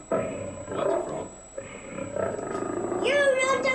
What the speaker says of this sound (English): Is that a lion?